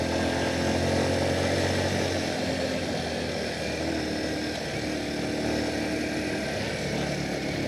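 A Kawasaki KLX 230 SM trail motorcycle fitted with a Norifumi aftermarket exhaust runs on the road, a continuous buzzing engine drone mixed with steady wind rush from riding.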